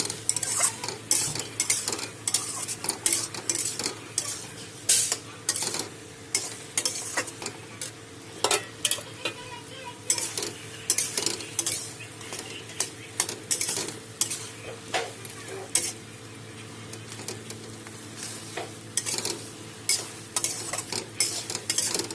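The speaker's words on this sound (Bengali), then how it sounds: "এখন আমি মাছের মাথাগুলো দিয়ে দেবো, ভেজে রাখা মাছের মাথাগুলো দিয়ে দিলাম।" Fried rui fish heads being stirred into sizzling spice paste in a pan for a Bengali fish curry, with steady frying sizzle and repeated scraping clinks of a spatula against the pan, close up and with no talking.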